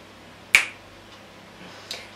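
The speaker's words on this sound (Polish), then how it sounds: "pstryknę palcami i zaraz będę go miała nałożonego na twarz" A single sharp finger snap rings out close and clear against a quiet room, followed by a much fainter click near the end.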